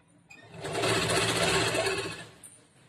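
A sewing machine stitching blouse fabric, one short continuous whirring burst of rapid stitches that ramps up and then slows to a stop, close and clear.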